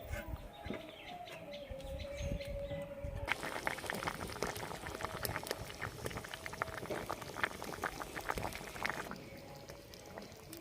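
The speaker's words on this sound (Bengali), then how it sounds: "এঁচোড়ের তরকারিটা ফুটে গেছে বন্ধুরা।" Jackfruit curry bubbling steadily in a covered pot, a dense continuous simmer with many small pops and crackles that thicken and grow louder after the first few seconds, with no voices.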